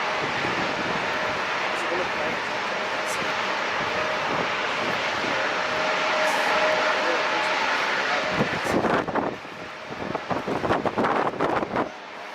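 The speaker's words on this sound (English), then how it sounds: "Next landing is Alaska 1447 from Chicago RD, 737-8" Alaska Airlines Boeing 737-8 jet landing, a steady broadband jet roar with wind buffeting the microphone, sustained and loud before breaking into gusty bursts near the end, with people talking faintly in the background.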